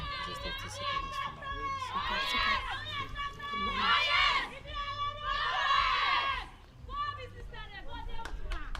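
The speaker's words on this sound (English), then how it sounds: "You can hear the cheer from the outside, encouraging the last 2 Sierra Leone batsmen." Spectators outside an under-19 women's cricket qualifier between Sierra Leone and Botswana shout and cheer in rising and falling bursts of many voices, heard at a slight distance with overlapping chatter.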